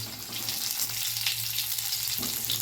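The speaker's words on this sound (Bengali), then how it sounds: "ভেজে নিচ্ছি আমি সুন্দর করে, হালকা লাল লাল করে" Jackfruit pieces frying in mustard oil with a little ghee, a continuous close sizzle and crackle with occasional soft stirring, no voices.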